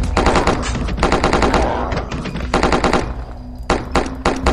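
Rapid automatic gunfire from a recoiling gun in a zombie video game, loud and close, in several sustained bursts separated by short gaps, with no talk.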